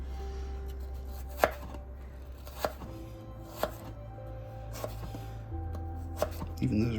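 Knife chopping carrots on a cutting board for bibimbap, the Korean rice and vegetable dish: five separate sharp chops spaced about a second apart over a low steady background hum, with a faint clatter at the end.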